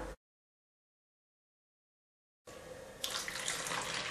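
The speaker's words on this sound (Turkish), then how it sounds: "ılık sütü bırakıyoruz" Warm milk pours into a bowl of yeast and sugar for pide dough, a splashy liquid stream that starts after a stretch of silence and grows louder, close by with no talking.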